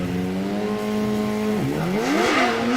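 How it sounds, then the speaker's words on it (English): A hill climb race car powered by a 1-litre Suzuki GSX-R motorcycle engine screams close and loud, holding a high steady pitch, dipping briefly at a shift, then rising again as it accelerates. "These are all 1 litre bike engine cars, so they run Suzuki GSX-R engines in the back of these."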